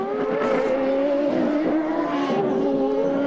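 CART Indy race car sliding and recovering during qualifying at Denver in 2002, a loud high-pitched engine note that wavers and dips as the tail steps out, then revs back up, near and continuous.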